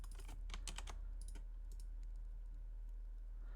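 Computer keyboard typing in a burst of quick, crisp clicks, then a few scattered keystrokes and a quiet pause, close and alone over a low electrical hum.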